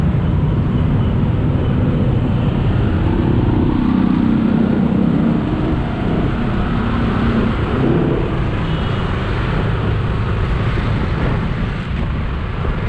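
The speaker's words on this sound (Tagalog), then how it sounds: "Makikita nyo may konting traffic sa C5" Steady road traffic on C5 heard from a moving motorcycle, a continuous loud engine and road roar with broadband wind noise throughout, no voices present.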